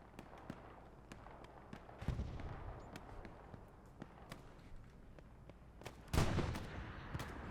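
Artillery fire in the Hell Let Loose war game on the Kharkov map, with dull distant booms and a louder blast near the end over a low battlefield rumble and scattered shots.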